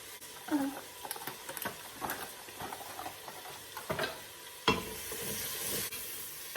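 A stew of oxtail with all-purpose curry paste and two bay leaves simmers and sizzles softly in a pot over medium heat, a steady low bubbling with occasional stirring clatter, fairly quiet and close.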